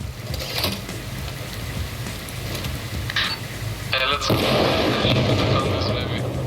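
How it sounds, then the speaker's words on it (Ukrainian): An RPG fires and its rocket explodes in the military shooter game ARMA Reforger, with mechanical clatter and gunfire followed by a loud, broad blast about two-thirds through that rumbles on. "Одне РПГ пішло."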